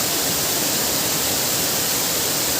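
An agency waterfall pours between rocks in hill country, a loud, dense, unbroken roar of rushing water filling the whole scene.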